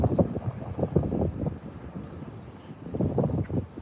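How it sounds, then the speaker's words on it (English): Outdoor wind gusts buffet a microphone at a SpaceX Starbase site, producing a low, rumbling roar that swells and eases in irregular puffs without any voices. "You might hear some wind here and there"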